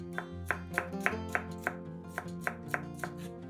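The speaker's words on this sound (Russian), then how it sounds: "Один красный сладкий перец разрезаем пополам и нарезаем небольшими кусочками." A knife chopping red sweet pepper into small pieces on a board, about eleven quick, evenly spaced taps at close range over a soft background of music.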